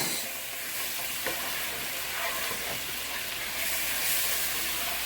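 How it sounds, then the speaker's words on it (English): Peppers fry in a pan with melted garlic and soy sauce, giving a loud, close, continuous hissing sizzle with light stirring scrapes, steady throughout without talk. "we're going to let the peppers cook in the soy sauce for, I'll say, 1 to 2 minutes"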